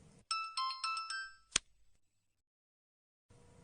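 A melodic phone ringtone plays a few quick chiming notes, close and clear, then a sharp click cuts it off and silence follows.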